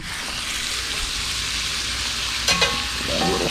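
Venison steak seasoned with salt and pepper fries in a pan over a camp cooking setup, a loud continuous sizzle with a few scraping stirs partway through.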